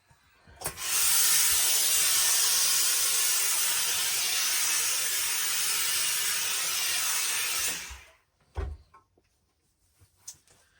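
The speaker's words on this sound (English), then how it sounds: "introduce some steam using the iron" Steam iron hissing through a tea towel onto a felt fedora hat: a loud, steady jet of steam lasting about seven seconds, opening and ending with soft clunks and followed by a few quiet handling knocks.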